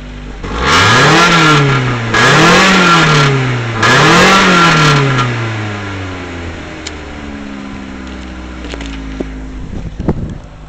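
Four-cylinder car engine with no exhaust system fitted, revved three times in quick succession with rising and falling pitch, loud and raw, then settling to a rough idle with a few clicks near the end.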